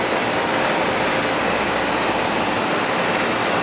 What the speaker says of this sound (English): Compressor just started. See the compressor started?